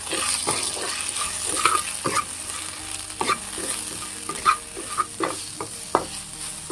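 Capsicum and vegetables fry with salt in a pan under soft, steady sizzling, broken by a run of close, sharp scraping strokes as they are stirred.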